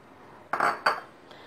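Two quick metallic scrapes of a spoon adding sugar to rava payasam in a pan, close and distinct, followed by a faint tap.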